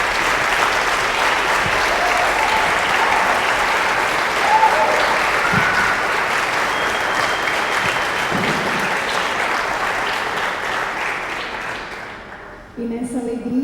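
Congregation at a Catholic Mass for first promises in the Shalom community applauding, a dense, steady wash of clapping lasting well over ten seconds that fades near the end as a voice begins to speak.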